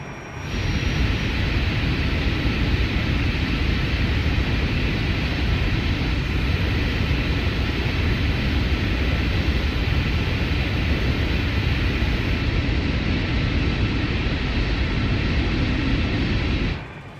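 Boeing 747-200 Classic engines idling in a flight simulator at Kai Tak, a steady, loud, unbroken roar with a thin high-pitched whine riding on top, holding constant throughout with no voices.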